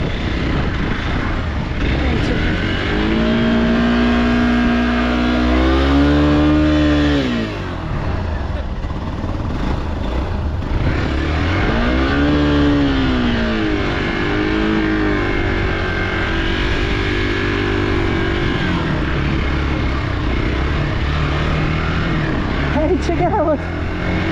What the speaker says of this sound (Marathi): अरे घसरते कशी काय गाडी